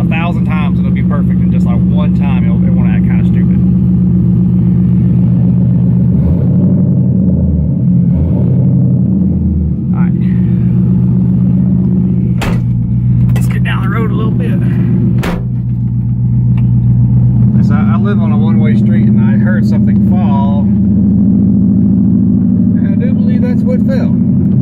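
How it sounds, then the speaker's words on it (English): A Mazda RX-7 rotary engine cranks, fires up on the key and settles into a loud, close, continuous idle rumble that shifts in pitch along the way, with people talking over it. "Let's see if she fires up on key for me."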